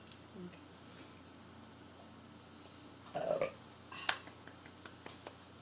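A burp sound effect triggered by a stream chat command, one short, moderately loud belch mid-clip over a low room hum, followed by a faint clicky blip.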